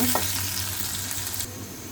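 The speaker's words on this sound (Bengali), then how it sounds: "পেঁয়াজটা একটু লাল করে ভেজে নিচ্ছি।" Chopped onions and sliced green chilies fry in a hot pan, a steady close sizzle with soft stirring scrapes that thins out near the end.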